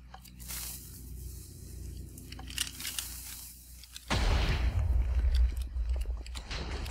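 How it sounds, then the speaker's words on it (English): A fired launcher bursting in a quick staggered series, a few sharp cracks followed by a loud, dense rumbling blast that carries on to the end. "It was very quick, and there's, it's a staggered explosion."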